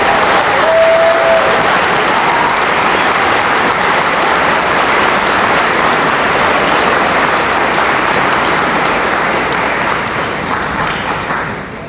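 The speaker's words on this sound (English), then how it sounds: "Let's give a big round of applause to our math inductees tonight." An audience at a high school honor society induction ceremony gives sustained, dense applause for math honor society inductees, loud and steady for the full duration before tapering slightly at the end.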